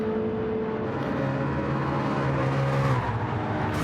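BMW race car engine in a racing video game on a high-speed circuit, a loud, steady sustained drone with rising pitch as it accelerates, continuous and close with no talk.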